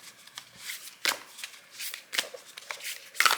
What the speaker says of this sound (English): let's also pull some of these cards